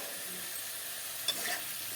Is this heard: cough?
no